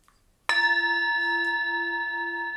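Scalloped, flared bell-shaped bell pitched at F4, very light, struck once after a short quiet moment, giving a clear ringing tone rich in overtones that sustains and slowly fades.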